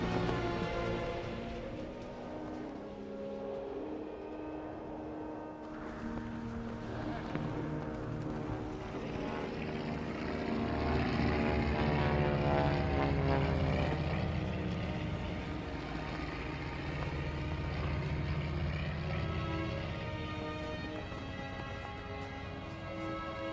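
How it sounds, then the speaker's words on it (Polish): A propeller airplane circles overhead, its droning engine swelling and fading in a long, wavering hum that grows louder toward the middle. "samolot nad nami krążył"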